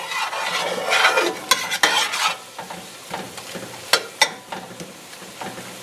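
A spoon scrapes and stirs steadily through wine reducing in a hot pan for braised beef, with a continuous sizzle underneath and a few sharp scraping accents near the end.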